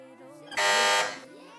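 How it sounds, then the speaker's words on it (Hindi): A team presses the buzzer on a kids' religious quiz show, a loud, harsh electronic buzz lasting about half a second that cuts through background room noise and chatter. "बजर बजाई है फैजान एकेडमी वालों ने।"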